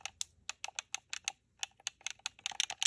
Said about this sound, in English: Here go a sound test real quick. It's just a D-pad.